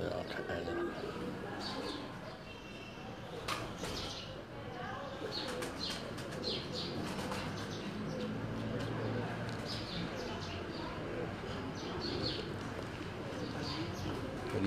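Pigeons of a famed breed cooing in a loft, a soft steady murmur of coos with faint chirps and occasional bumps, heard alongside distant indistinct voices.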